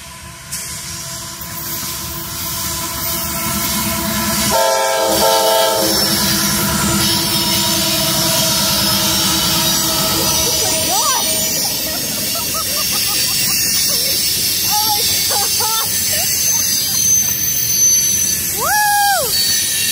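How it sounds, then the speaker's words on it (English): A train passes close by on the line at Folkston, a steady rumbling roar with rail and wheel noise running throughout, while a few short horn-like tonal blasts sound near the end. "Let's go! Train number one!"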